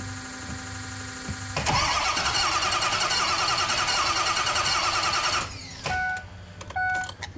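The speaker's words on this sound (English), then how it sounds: "Okay, well, I got it to crank now." Bus diesel engine cranking without starting: a brief low hum, then several seconds of loud, continuous starter grinding with a rough rhythmic churn, stopping abruptly, followed by short clicks and a couple of brief mechanical whines, close and alone.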